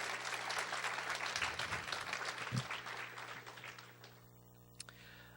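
Audience applause at a Teacher of the Year ceremony: a dense, steady wash of many hands clapping that thins out and fades toward the end, with a couple of last stray claps.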